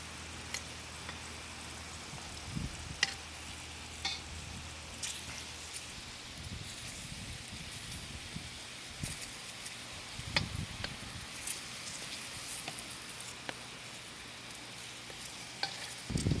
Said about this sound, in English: You pan fry until they turn it brown a little bit.